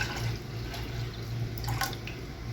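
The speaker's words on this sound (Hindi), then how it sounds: "ये इसमें पानी डाल लेते हैं" Water poured from a glass into a pot of basmati rice for sweet zarda, a steady running, splashing flow heard close and alone for a few seconds.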